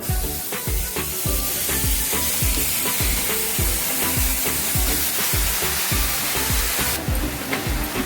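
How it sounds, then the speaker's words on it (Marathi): Steady, loud sizzling of beans frying in a hot pan, with crackling pops and occasional clattering stirs throughout. "गवारीची शेंग आपल्याला प्रथम भाजून घ्यायची आहे।"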